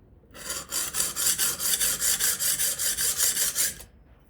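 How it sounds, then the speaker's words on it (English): A plane iron or chisel is pushed back and forth across a 300 grit sharpening stone, about fourteen even rasping strokes in a steady rhythm, close and fairly loud, with no talking. "Again, this is a 300 grit stone, so it's cutting fairly aggressively, but not super aggressive."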